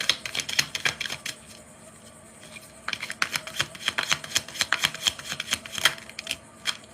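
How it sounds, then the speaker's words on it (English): Tarot cards are handled and drawn from a deck, giving rapid, crisp flicks and riffles in two bursts. A quieter pause separates the bursts, and the sound is close. "I'm going to pull a card first"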